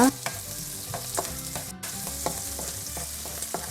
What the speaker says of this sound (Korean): 기름이 마늘종에 스며든다 싶을 때까지 볶아주면 됩니다